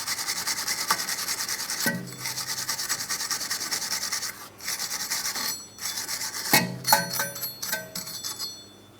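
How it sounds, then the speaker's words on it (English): A hand wire brush scrubs rust from a brake hub between the lug studs on a Mitsubishi Outlander, with close, rasping back-and-forth strokes, short pauses and a couple of metallic rings. "For that, I'm just going to use my wire brush."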